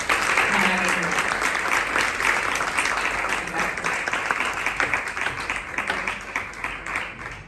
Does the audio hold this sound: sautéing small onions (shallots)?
no